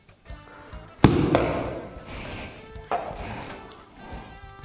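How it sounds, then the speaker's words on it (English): A water-and-tablet-fuelled homemade rocket blows its lid off under gas pressure with a sharp, loud pop, followed by a rattling clatter and a second, smaller knock a couple of seconds later. "at some stage the pressure's high enough for it to force the lid off the body, and that makes the rocket throw up into the air"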